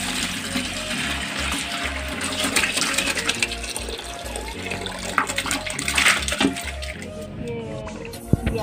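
Liquid lemon peel fertilizer poured into a potted plant, a close, continuous splashing trickle that gurgles unevenly for several seconds, with someone speaking softly over it.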